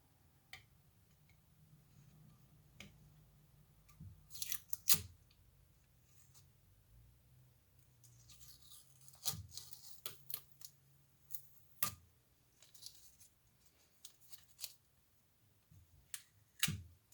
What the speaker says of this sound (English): We'll peel this tape off now and see what it looks like.